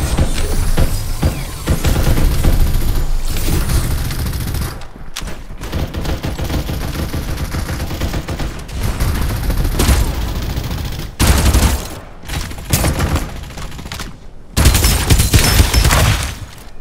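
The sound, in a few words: gunfire in the video game Farlight 84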